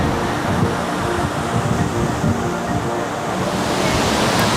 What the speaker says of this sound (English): So here we are in front of Looking Glass Waterfall.